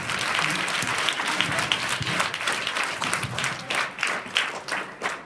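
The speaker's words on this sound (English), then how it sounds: "Give yourselves another round of applause." Children at a school talk for challenged kids break into applause, a lively uneven patter of many small hands that swells and dips over several seconds, with a few voices faintly mixed in.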